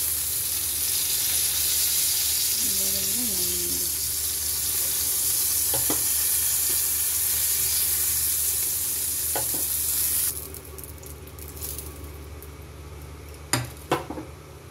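Green chillies fry in oil left over from frying pointed gourd, making a steady close hiss that drops away partway through, followed by a few sharp utensil clicks near the end.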